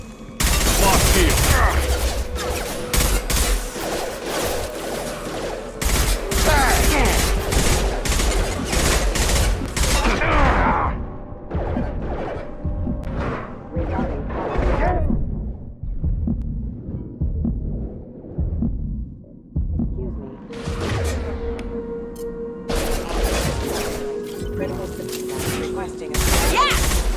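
Gunfire in the video game Mass Effect 2, with loud bursts of shots over the first ten seconds and again near the end, set against a humming game soundtrack and effects.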